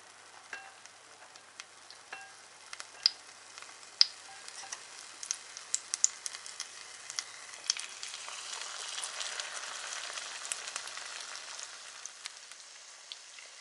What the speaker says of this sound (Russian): Рулетики обмакиваем в кляр. И отправляем на разогретую с маслом сковородку.